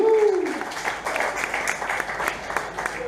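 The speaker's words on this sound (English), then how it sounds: "Give me a round of applause." Audience at a Nashville show applauding, a steady wash of clapping that begins just after a brief voice and continues at moderate level throughout.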